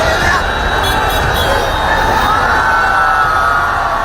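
A huge crowd in Patna surrounding Bageshwar Baba's open car raises a loud, continuous din of cheering, whooping and shouting.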